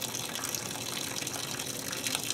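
Steady, forceful rush of water gushing out of a Dodge 440 engine's radiator and block in a continuous loud stream, with no pauses or voices.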